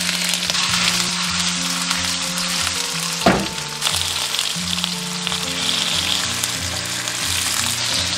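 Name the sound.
tofu pan-frying in oil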